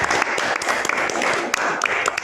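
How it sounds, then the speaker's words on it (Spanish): Audience applause, a short burst of steady clapping from a room of listeners, moderately loud, lasting a couple of seconds. "Un aplauso fuerte."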